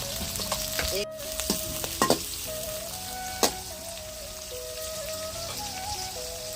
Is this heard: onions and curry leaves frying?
yes